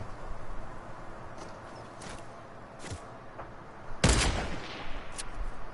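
A single loud, sharp gunshot in the Fortnite video game, a sudden burst cutting through quieter game noise and scattered faint clicks and steps.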